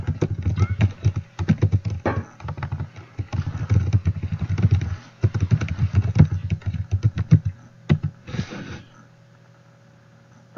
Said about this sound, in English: I'm actually going to type in